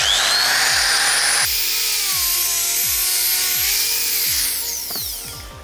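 A power sander fitted with a round sandpaper disc, used on wood for a door, runs with a loud steady high whine over repeated ticking knocks, then gradually slows near the end.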